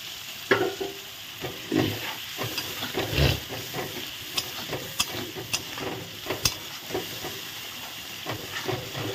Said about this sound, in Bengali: আলু একসঙ্গে একটু কষিয়ে নেব